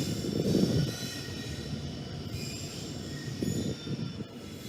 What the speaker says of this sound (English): I finally got to see a double NS Heritage Union or an NS Heritage Duo on an NS train